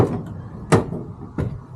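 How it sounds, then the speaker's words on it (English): A motorhome's sliding screen door rattles and slides in several short, sharp bursts, close up, with no talking. "it makes a lot of noise. And so I take it out going down the road."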